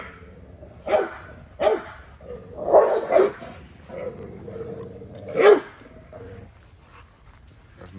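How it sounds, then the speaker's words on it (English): A dog barks in short bursts, several sharp yelps and barks spaced out over a few seconds, fairly close, with quieter whining between. "So Navy barking at Zeus"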